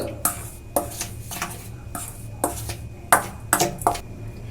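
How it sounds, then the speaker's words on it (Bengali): A spoon mixing dry pakora ingredients in a bowl, making a run of separate clinks and scrapes against the bowl at an uneven rhythm, close by and with no talking. "এবার আমি একটা চামচ দিয়ে ভালো করে মিশিয়ে নেব এই শুকনো উপকরণগুলো"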